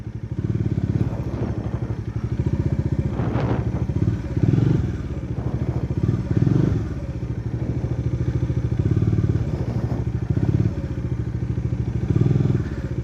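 Motorcycle engine during slow balance practice on a driving-school course, idling and rising in short, small throttle blips with occasional clunks, steady and close throughout.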